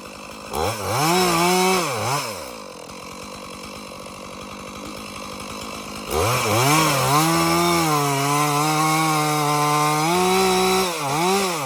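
A chainsaw cuts into a tree for a punch cut, revving up loudly, bogging into the wood in long steady cuts, dropping to a rattling idle midway, then revving hard and cutting again.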